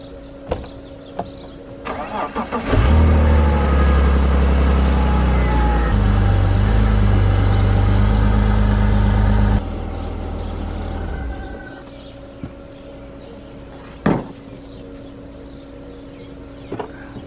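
A BMW E46 car starts up and idles loudly nearby for several seconds, then shuts off, leaving quiet shop background with a few knocks and clicks before and after.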